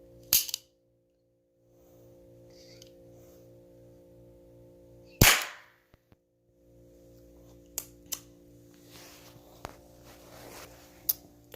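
A cap gun is fired: a sharp, close crack comes first, then a second loud bang about five seconds later, over a faint background hum, followed by several small clicks and taps.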